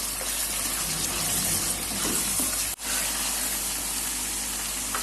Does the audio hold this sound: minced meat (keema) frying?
yes